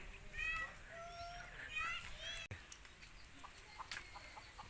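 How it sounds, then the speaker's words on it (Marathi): A rooster approaches with repeated clucking calls outdoors while a person and someone talk and urge it on, the bird's calls moderately near among the voices. "बघा हे कोंबडा आलं बघा आता कसा येतोय"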